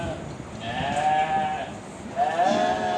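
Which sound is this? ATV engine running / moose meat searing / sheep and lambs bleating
sheep and lambs bleating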